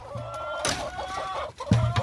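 Backyard chickens clucking and murmuring nearby during feeding time, several overlapping calls over a low outdoor background with no one speaking.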